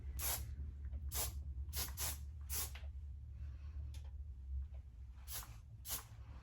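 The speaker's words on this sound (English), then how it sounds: "now I'm gonna hit it with some hairspray" Kenra Volume 30 hairspray sprayed onto short pixie-cut hair in quick hissing bursts, a few closely spaced spritzes then a pause and two more, near and clear over a low background hum.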